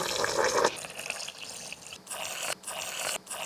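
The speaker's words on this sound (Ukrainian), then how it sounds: "В каструльку ми засипаємо ацетат і додаємо 100 мл води." Water is poured into a pan holding acetate crystals, a soft, close splashing pour with a few brief breaks, then trickles and stops, no one speaking.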